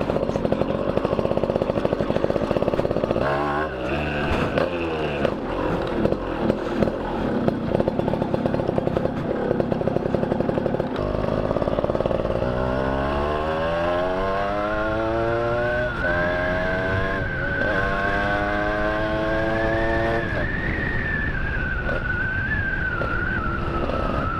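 A kick-started two-stroke motorcycle engine running close by, idling with a rough buzzing beat and then revving up and down in rising, falling sweeps before settling into a steadier high drone, with no talk.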